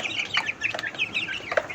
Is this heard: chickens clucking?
yes